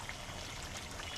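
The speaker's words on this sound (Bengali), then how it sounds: "দিয়ে দেবো 1 চামচ কেওড়া পানি" A spoonful of kewra water is poured into chicken biryani, making a soft, brief liquid trickle at low volume.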